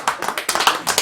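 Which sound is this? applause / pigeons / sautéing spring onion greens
applause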